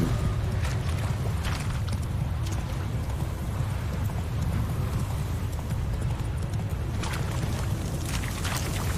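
Roach, the horse in The Witcher 3, gallops at speed with steady rapid hoofbeats thudding over ground in continuous rhythm, a low rumble of game ambience underneath.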